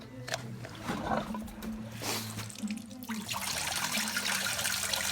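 A pump pushes citric acid water through the radiator of a Volkswagen Passat B7, starting with gurgles and irregular mechanical knocks, then settling into a steady hissing rush of flowing liquid close by.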